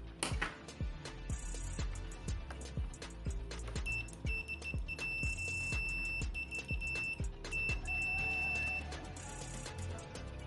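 The continuity beeper of a Sanwa PS8a solar multimeter sounds in short, repeated high tones that start and stop quickly, over a background of faint rhythmic clicking and ticking.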